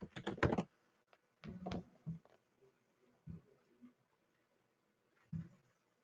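Quick bursts of computer keyboard typing as a widget blueprint name is entered, with short clusters of clicky keystrokes separated by pauses and a few isolated taps, quiet and close.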